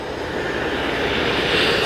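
A steam iron used in sewing a skirt gives off a steady, close hiss of steam that swells a little over about two seconds, with nothing else heard.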